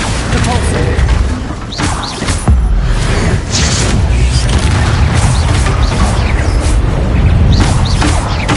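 Blasting Confringo spell explosions in Hogwarts Legacy, a loud dense barrage of booms and crashes with whooshing bursts running continuously, a voice calling out under the din.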